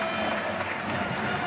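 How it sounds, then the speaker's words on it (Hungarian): A crowd applauds an injured handball player limping off during a Hungarian men's cup final, Veszprém against Szeged: dense, steady clapping mixed with arena crowd noise, loud and continuous throughout. "Selman kap tapsot"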